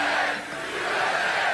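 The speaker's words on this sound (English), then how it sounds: "This is a big crowd." A large crowd at a Trump political rally roars and cheers in a loud, sustained wash of many voices, swelling slightly as it goes on.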